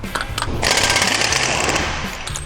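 A loud pneumatic impact wrench hammers steadily for about two seconds, removing a seized, corroded nut under a SsangYong Mohave near the differential and propeller shaft, with short ratcheting bursts at the start and end.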